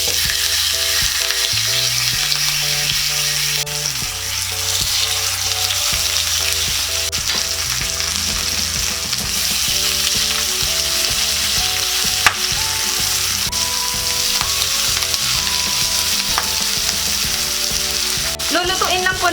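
Burger patties fry in hot oil in a pan with a steady, dense sizzle throughout, under continuous background music.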